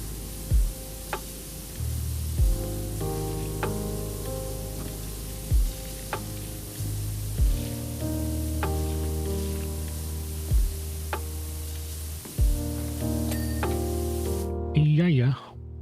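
Water sprays hard through a nozzle onto a floor being cleaned, a steady close hiss broken by thumps and shifts of the wand, with a voice talking over it.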